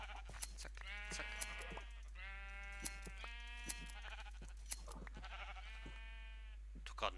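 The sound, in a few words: sheep bleating in the video game Minecraft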